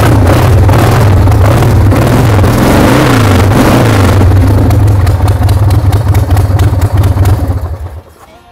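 A restored custom-built motorcycle engine runs loud and close, revving steadily with a deep, pulsing exhaust note and mechanical clatter before cutting off abruptly near the end.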